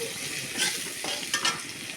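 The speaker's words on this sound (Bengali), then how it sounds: "এটাকে ভালো করে নেড়ে নেব, ভালো করে কষিয়ে নেব" Tomato and green chilli sauté in a pan for a fish-head and bottle-gourd dish, a close sizzle broken by quick scraping stirs of the spoon.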